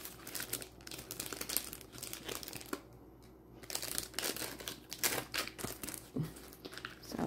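Stickers are peeled out of plastic sleeves in a thrift store postcard album, giving close, irregular crinkling and rustling with sharp crackles and brief pauses, no talking.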